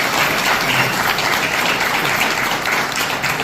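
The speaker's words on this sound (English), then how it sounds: "So let's give him a round of applause." A crowd gives sustained, loud applause for a 96-year-old World War II veteran at a Pearl Harbor Day gathering, a dense, steady wash of clapping that holds for the whole stretch without fading.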